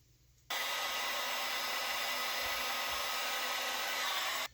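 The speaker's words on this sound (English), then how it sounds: "I'm going to heat shrink it right at the end just to really finish it off" A heat gun shrinks heat-shrink tubing onto the end of an Amsteel rope. The dryer-like blowing roar switches on abruptly after a moment of quiet, holds steady and loud, then cuts off at the end.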